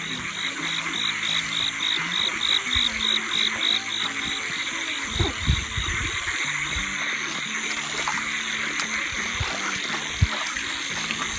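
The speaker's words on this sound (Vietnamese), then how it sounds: "Ếch nhái kêu đầy đồng nhỉ." Frogs croak in a rice field at night, a dense, steady chorus of rapid pulsing calls that carries on throughout, with occasional nearby splashes and water movement underneath.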